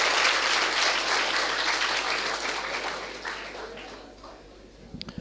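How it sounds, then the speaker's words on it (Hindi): An audience at a student entrepreneurship event applauds steadily for about five seconds, the dense clapping slowly thinning and fading before a few scattered claps at the end. "एक बार लास्ट में इनके लिए ताली बजाओ"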